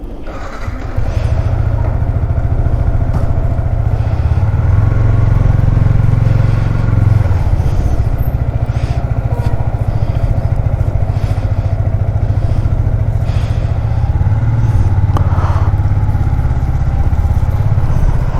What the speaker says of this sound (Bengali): এই হচ্ছে আমার বাইক, আর আজকে MT-15 নিয়ে